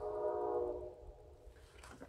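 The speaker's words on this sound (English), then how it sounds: "I hear the train coming around the bend." A distant train horn sounds in a sustained, fading blast over low rumbling, followed by faint clattering.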